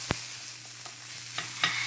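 Vegetable toppings for a pizza fry and crisp in a pan, giving a quiet steady sizzle with a low hum beneath and a few sharp clicks of stirring.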